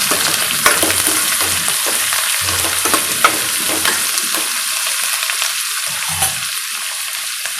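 Finely chopped green chillies and onion sizzle loudly in a pan for rice rava upma, with a continuous crackle of hot oil broken by repeated scraping stirs of a spoon.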